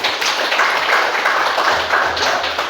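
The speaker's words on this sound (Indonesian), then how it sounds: "tepuk tangan buat kalian" Students in an eleventh-grade classroom clap together for their classmates, a brisk, crowded patter of hands close by that holds steady to the end.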